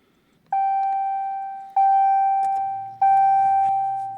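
A Starline i96v2 immobiliser in a Dodge Challenger plays three clear, identical electronic chime tones in a row, each ringing out and slowly fading, with faint clicks and a low hum underneath.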